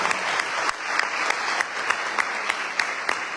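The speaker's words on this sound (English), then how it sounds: "So big round of applause for Balaji" Audience applause in a temple hall during a Navaratri night gathering, a dense steady clapping from many hands that holds evenly throughout without pause.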